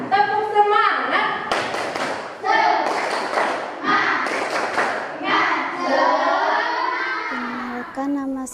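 Schoolchildren in a classroom do a rhythmic clapping chant, sharp hand claps and thumps punctuating loud group singing voices that carry throughout.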